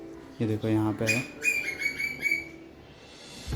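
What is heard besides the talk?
squirrel calling for food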